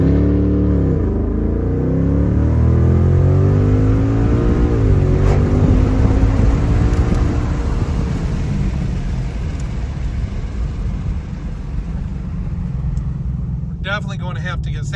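A 2024 Mustang GT V8 with a Stainless Works Legend active exhaust revs hard and accelerates from a stop, its exhaust note rising steadily through the gears, loud and close, with a voice briefly near the end.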